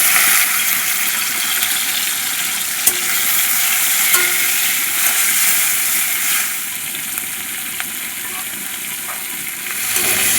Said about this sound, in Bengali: কড়া গরম হয়ে গেছে, চিংড়ি মাছগুলো দিয়ে দেবো।